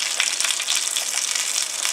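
Salmon fish sizzling in hot palm oil as it goes into the pan, a loud continuous crackling hiss close by.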